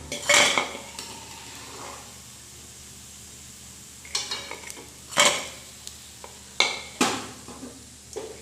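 Golden-brown fried poha biscuits are lifted from a pan onto a plate, giving a few sharp clinks and scrapes of utensil on metal and dish, spaced apart, with a faint sizzle of oil lingering underneath.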